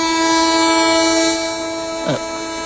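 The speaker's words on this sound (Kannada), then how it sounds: "ಟ್ರೈನ್ ಹೊರಡ್ತಾ ಇದೆ." A departing train's tonal horn drones steadily, with a brief louder swoop near the end over a constant rumble of railway noise.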